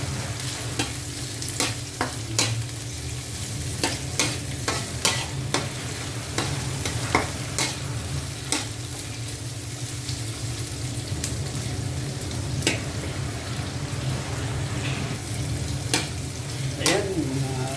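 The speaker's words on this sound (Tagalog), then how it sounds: "Ilagay na natin ang sibuyas. Tapos ang sili na kinaya." Onion and chili fry and sizzle in a pan, a steady crackling hiss broken by repeated sharp scrapes and clacks of stirring, close and alone.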